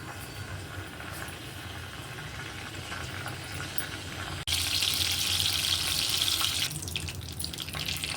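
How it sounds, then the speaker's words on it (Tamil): Mustard seeds spluttering in hot oil for a ladies' finger stir-fry, a dense crackling sizzle that turns suddenly louder and brighter halfway through, then eases slightly toward the end. "கடுகு பொரிஞ்சிச்சு"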